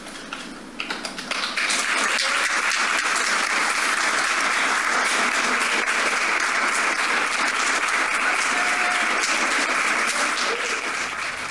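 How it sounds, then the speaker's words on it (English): Delegates at the COP28 climate conference break into sustained applause in a large hall, the clapping swelling quickly after a quiet start and holding steady and dense throughout. "delegates simply applaud when a member from a country getting consumed by a rising ocean cries"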